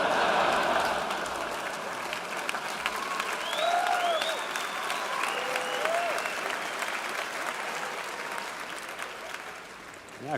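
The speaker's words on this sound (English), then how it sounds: "Yeah, clap it up." Comedy club audience bursts into sustained applause that fills the room at close range, with a few whoops and cheers rising through the clapping before it gradually thins out.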